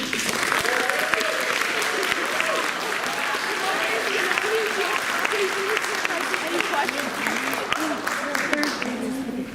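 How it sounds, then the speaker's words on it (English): A large audience at an elementary school film festival claps steadily and loudly, with voices and cheers audible under the dense applause throughout. "So if you can give those people a round of applause."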